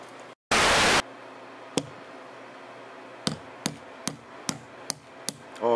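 Hammer blows knocking a part loose from an electronic speed control: a series of sharp, close metallic taps, one early and then a quicker run of about seven evenly spaced strikes, after a brief burst of hiss.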